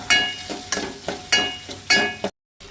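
Finely chopped onion frying in a pan with a ginger, garlic and green chilli paste for a Goan vegetable pulao, stirred in about five rhythmic scraping strokes over a steady sizzle, close and clear with a brief silent gap near the end.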